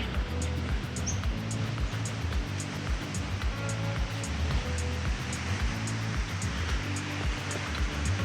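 Water pouring steadily at Lesmurdie Falls, a waterfall in a national park near Perth, Western Australia, with a continuous broadband rush and low rumble running unbroken throughout.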